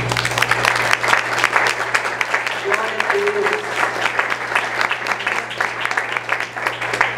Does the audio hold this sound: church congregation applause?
yes